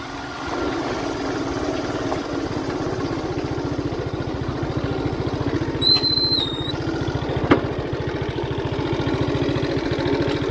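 A motorcycle engine idles steadily with an even, throbbing pulse, close and continuous, with a brief high whistle and a small knock partway through, in a village setting; the cut-off itself does not clearly come.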